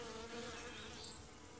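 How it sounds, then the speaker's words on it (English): A crowd of honeybees hums and buzzes at a hive entrance where many cluster and fly in and out carrying pollen, a close, steady droning that stays faint and fills the whole moment alone. "So here the bees are."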